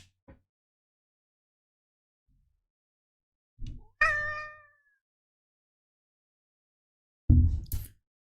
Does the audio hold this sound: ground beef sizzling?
no